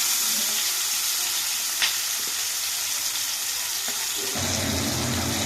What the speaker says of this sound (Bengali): মাছটা এতটাই বড় যে কড়াতেই ধরছে না তো ভাজা হয়ে গেছে আর একটি ভাজতে দিয়েছি